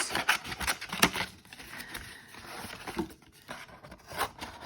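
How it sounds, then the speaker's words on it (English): Scissors cut through a sheet of A4 paper at close range in a quiet room, making a series of short, crisp snips and slicing rasps of uneven rhythm. "if I get a pair of scissors here and I cut"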